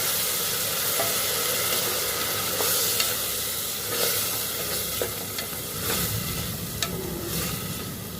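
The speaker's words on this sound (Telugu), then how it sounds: "పచ్చిమిర్చి చీడికలు చేసి వేస్తున్నాను బాగా కలపాలి" Slit green chillies stirred into a hot frying pan, with a steady loud sizzle and frying hiss broken by soft scraping stirs at irregular intervals.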